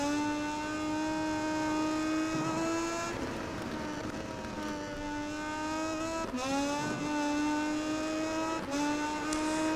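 A Moto2 motorcycle engine in MotoGP 19 at the Qatar circuit holds a loud, high-pitched whining drone while accelerating hard, with brief pitch dips at gear changes as the revs climb again.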